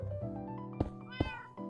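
A Minecraft cat meows in a short series of clear, close digital mews over steady game ambience, with two sharp clicks in between and no one talking.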